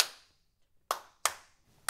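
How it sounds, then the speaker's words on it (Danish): Hands clap a rhythm at a Copenhagen Boys' Choir introduction: a sharp opening clap, a pause, then two crisp claps in quick succession and another at the end, close and alone in a quiet room. "Så klapper jeg nogle rytmer,"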